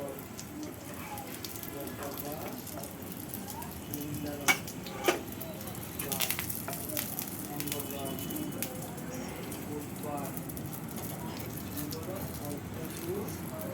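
Brinjal (eggplant) slices fry in a home kitchen pan with a steady, dense sizzle and spatter throughout, broken by a couple of sharp utensil clicks near the middle.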